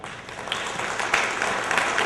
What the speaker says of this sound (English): we have to applaud you and thank you for making that happen